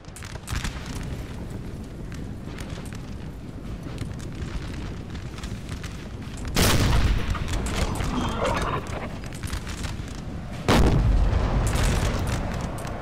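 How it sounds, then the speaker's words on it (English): Artillery fire in Napoleon Total War, cannons on a hilltop shelling French forces, heard as two loud booming blasts over a continuous rumbling battlefield din. "England does have some artillery on there on the hilltop, firing down below into the French forces"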